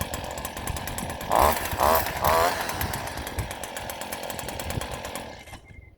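A STIHL FS 56 RC string trimmer engine starts and runs with a steady, loud buzzing drone, with a few brief revving surges early on before it cuts off near the end.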